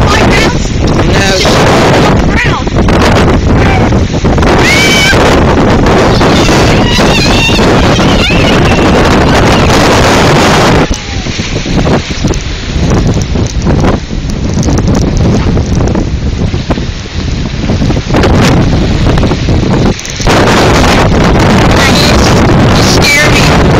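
Hurricane Sandy winds roar and buffet a microphone in a loud, constant rush that lasts the whole stretch, and a voice is faintly heard under it.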